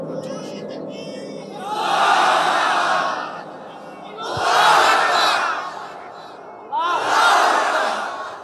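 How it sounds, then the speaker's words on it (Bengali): A crowd at a Bangla religious sermon gathering shouts the takbir loudly three times, in three long, powerful bursts of massed voices with short gaps between them. "3টা তাকবীর দিবা জোরে সোরে"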